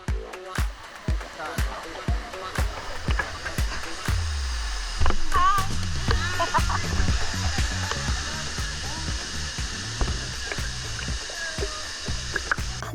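Can-umantad Falls in Bohol, Philippines, heard from beneath the cascade as splashing and broadband rushing water, building into a steady roar with a brief voice partway through.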